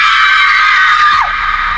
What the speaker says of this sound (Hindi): साथ में किसी के चिल्लाने की आवाज आती है